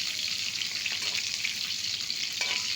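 Soaked black-eyed peas frying in a pan with curry leaves, giving a constant bright sizzle close up with a few faint stirring scrapes and no talk.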